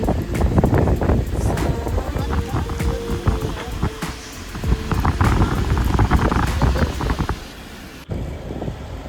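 Rain and wind in the mountains near Koksar, heard during a traffic jam. Steady patter and gusty wind noise buffet the microphone throughout, with a sharp knock near the end.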